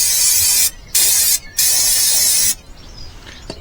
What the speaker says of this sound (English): just the pressure coming out of the can is enough to blast everything away